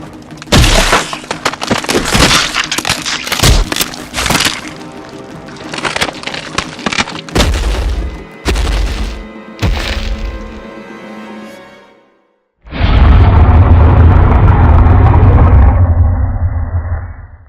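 A Utahceratops dinosaur brawl in a video game, with loud repeated cracking impacts and crunches, short bursts separated by gaps, a brief silence, then a heavy rumbling roar-like burst that sustains before fading.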